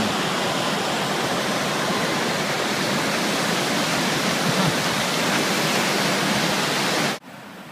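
River rapids rush steadily just outside a window in raw wilderness, a loud, unbroken wash of white water that cuts off abruptly near the end.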